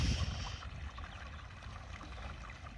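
Irrigation water flows through a field channel on a farm, a steady low rushing and gurgling close by, with no voices.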